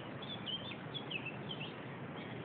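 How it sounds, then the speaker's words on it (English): Birds chirp and tweet in a short run of high calls over a steady outdoor background hiss during a nose flute session in a forest. "Thanks birds for your singing."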